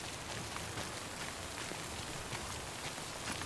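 Timefall rain in the game Death Stranding, a dense, even hiss of rainfall pattering on surfaces with scattered drop ticks, steady and unbroken throughout.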